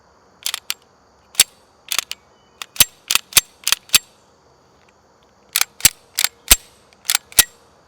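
Sharp metallic clicks and clacks from a Helwan 920 pistol's slide and magazine being handled, arriving in quick close clusters separated by a short pause.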